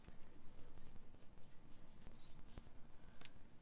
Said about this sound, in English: now I'm going to erase the extra